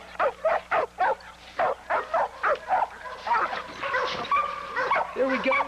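A lean, conditioned dog at PowerHouse Kennel barks in a steady rapid series of sharp close barks, then the barking gives way to someone talking while some dog vocal sounds carry on underneath.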